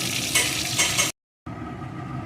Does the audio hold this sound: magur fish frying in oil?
yes